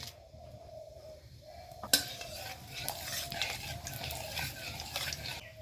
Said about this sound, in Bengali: তেল গরম হয়ে গেছে বন্ধুরা এখন আমি ফোড়ন দেবো